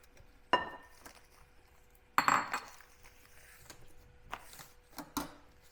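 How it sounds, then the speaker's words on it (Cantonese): A utensil stirs steamed rice cake batter in a bowl, with a few sharp clinks against the bowl standing out among quieter scraping and tapping sounds in a calm kitchen. "慢慢攪勻佢嚇"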